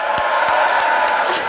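A crowd at a university welcome event for the class of 27/28 in Segovia cheers and whoops loudly and steadily, a dense wall of voices with sharp claps or bursts cutting through at intervals.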